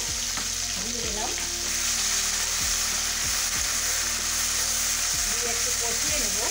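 Spices for a chicken kofta curry sauté in a pan with a loud, constant sizzle, while a spatula scrapes through them in regular strokes about once a second.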